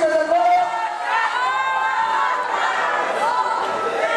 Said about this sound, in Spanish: Pero más fuerte ese aplauso.